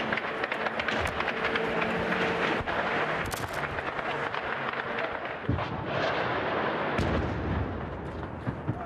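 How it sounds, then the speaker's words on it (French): A series of explosions during a Russian drone attack on Kyiv, heavy booms and cracks sounding among constant chaotic noise and movement, with faint voices in the background. "Ce journaliste continue de filmer alors qu'une série d'explosions retentit."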